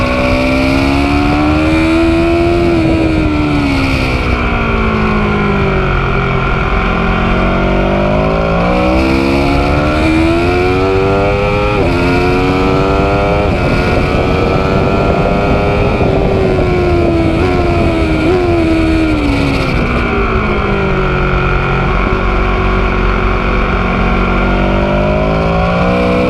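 Aprilia Tuono V4 1100 RR motorcycle, its V4 engine derived from the RSV4, heard loud and close while riding, with continuous revving that climbs and falls through the gears and no talk over it.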